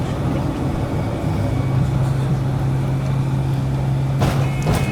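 A Parry People Mover railcar runs along the Stourbridge Town branch line on a cold, misty day with a steady, loud low rumble and drone. A sustained low tone builds in the middle, and a few brief clanks and bumps come near the end.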